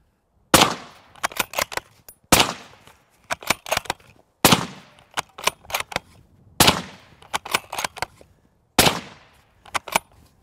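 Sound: five suppressed 7.62 rifle shots, Liberty Sovereign silencer

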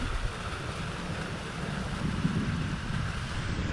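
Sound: strong wind blowing outdoors

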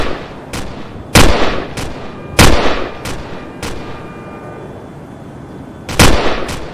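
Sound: gunfire from a Cyberpunk 2077 knock-off video game

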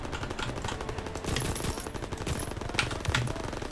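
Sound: gunfire in the video game Call of Duty: WW2

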